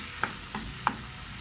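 Egg masala fries in a little oil with a soft, steady sizzle. Three quick clinks of a spoon stirring the pan sound close, with no talking.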